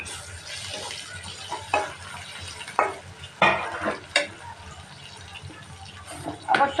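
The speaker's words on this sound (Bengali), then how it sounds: "এখন এর মধ্যে আমি দিয়ে দিচ্ছি ছোট ছোট চিংড়ি মাছ" Small prawns fry with half-cooked onions in hot oil, a steady low sizzle broken by several sharp scraping stirs of a utensil against the pan, close and clear.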